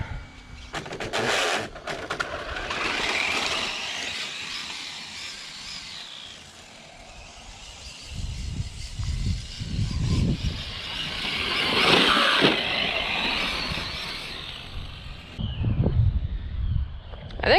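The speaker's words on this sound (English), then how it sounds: "I think I can hear the slipper clutch, which is annoying." A water-cooled Traxxas Slash 4x4 RC car on a 2S battery runs with a high electric whine that rises and falls in bursts, plus a rough, grinding slipper clutch. It stays fairly loud and close throughout, with no talk.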